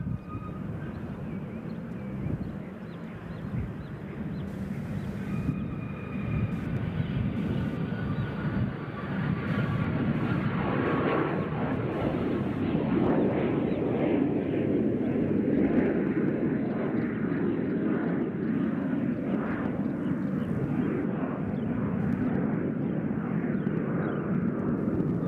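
A passenger airplane takes off at Nashville International Airport, its engine roar swelling into a loud, sustained rumble that holds steady for the whole stretch.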